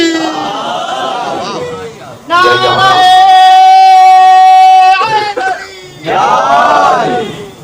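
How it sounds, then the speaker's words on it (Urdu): A crowd loudly chants the Nara-e-Haidri slogan in unison at a religious gathering, with a sustained collective shout in the middle answering a leader's call, and talk before and after. "اب آپ کی جگہ نعرہ بھی میں نے لگا۔ نعرہ حیدری"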